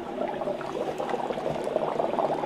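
Dry ice dropped into hot liquid for a Halloween party bubbles and fizzes steadily up close, a dense churning burble with no talk.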